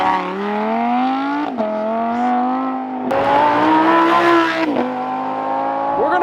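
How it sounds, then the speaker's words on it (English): A rear-wheel drive Lamborghini Huracan is driven hard on a race track, its engine loud and close with rising revs and a series of sharp gear changes, each followed by a fresh climb in pitch. "So he's gonna do his first like practice session in the rear-wheel drive Huracan."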